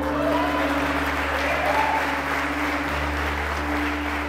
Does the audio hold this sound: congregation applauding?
yes